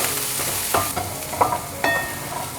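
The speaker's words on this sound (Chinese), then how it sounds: "快速翻炒至所有味道都融合" Corn kernels stir-fried in a pan with rose salt, curry powder, sugar and curry leaves, a steady soft sizzle broken by three distinct scraping spatula strokes, close and alone.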